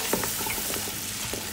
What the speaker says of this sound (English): So our onions have been sauteing for about 5 minutes.